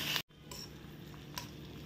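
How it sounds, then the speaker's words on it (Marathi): Potato vada masala is sautéed in oil in a pan, with short metallic scrapes and clinks of a spatula against the pan over a soft steady sizzle, briefly cut to silence near the start. "अशा प्रकारे हे तेलावर छान परतून घ्यायचं"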